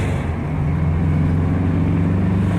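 Car engine pulling steadily as the gas is reapplied, a loud, continuous low drone with road and wind noise and no clear break in the tone.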